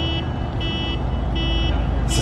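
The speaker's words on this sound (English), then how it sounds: "except for that beeping from the construction behind us" A construction vehicle's reverse alarm beeps repeatedly in a steady rhythm over loud rumbling engine and outdoor background noise, at sunrise at Walt Disney World.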